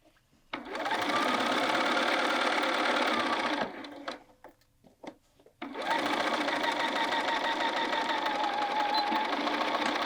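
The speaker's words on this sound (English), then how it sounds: "And continue sewing to the end." A sewing machine runs steadily while stitching a welt pocket on a Tamarack jacket, humming close and loud for several seconds, stopping briefly with a few small clicks, then running continuously again to the end.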